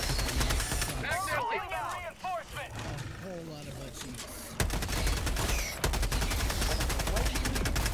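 Rapid gunfire rattles in the co-op shooter Helldivers 2, bursts of automatic shots that grow denser and louder in the second half, with players talking over the action.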